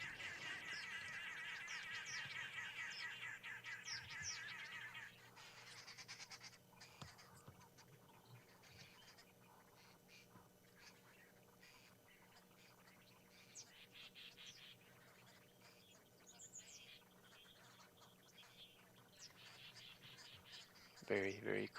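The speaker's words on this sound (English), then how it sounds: "These are none other than arrow-marked babblers." Arrow-marked babblers call during a sunset safari in a loud chattering burst at the start, then in faint scattered calls over a quiet background, with a voice speaking softly at times.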